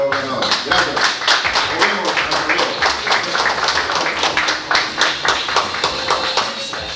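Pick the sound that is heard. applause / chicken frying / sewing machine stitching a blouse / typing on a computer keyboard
applause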